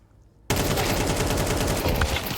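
Rapid MP9 submachine gun fire in a Counter-Strike match at a BLAST Austin Major duel, a loud sustained burst that starts abruptly after a quiet moment and continues without pause, no voice over it.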